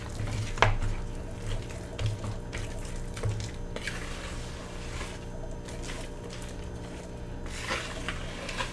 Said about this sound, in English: Now that it's thicker, we can mix with a little bit more muscle.